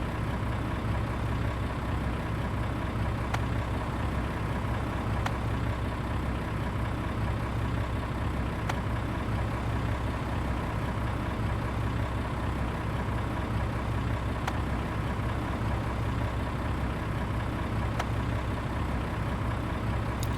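Diesel truck engine idling steadily with a low, constant rumble and no change in pace, joined by faint occasional clicks, heard alone without talking.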